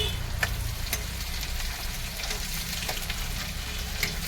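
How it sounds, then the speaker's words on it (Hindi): Onion, garlic and chili fry with mushrooms in a pan during an Indian truck driver's roadside cooking, a dense, steady sizzle up close with periodic sharp clicks of stirring, no voices. "प्याज लहसुन मिरचाई भूज गया"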